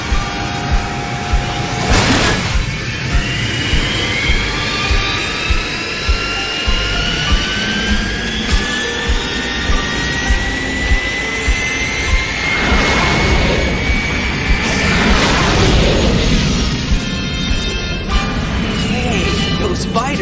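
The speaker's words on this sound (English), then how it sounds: "Those Veritech fighter engines are built on a reactor design" Veritech fighter jet engines roaring through deep space in an animated sci-fi series make a loud sustained whine with rising pitched tones, overlaid by voices talking and periodic whooshing passes.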